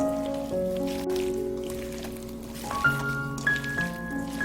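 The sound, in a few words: hand-mixing seasoned cucumber salad with onion and scallions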